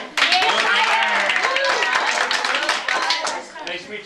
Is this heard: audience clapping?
yes